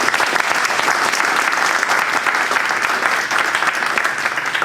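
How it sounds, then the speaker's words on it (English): A hall audience claps steadily for distinguished general officers at a university alumni military panel, dense and loud applause holding evenly from start to finish. "Let's give all of our distinguished general officers a round of applause."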